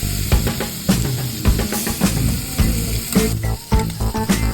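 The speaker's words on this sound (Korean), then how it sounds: "고기가 구워지는 아름다운 소리를 들어볼 시간입니다" Beef tripe (gopchang) sizzling on a grill at a Korean tripe restaurant, a close, loud crackling sizzle full of sharp pops and spits throughout.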